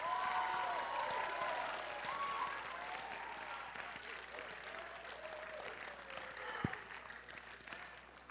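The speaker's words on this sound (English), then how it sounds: "Let's just give another round of applause." Audience applause at a high school media career day session, a steady patter of clapping from a room of students that slowly thins, with voices and some faint tonal sounds mixed in, moderately quiet.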